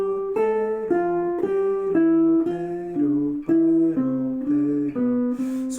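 A guitar plays a reversed pattern in thirds, plucking single clear notes in pairs, each note followed by a third, stepping steadily downward in an even rhythm with ringing decay, close and alone.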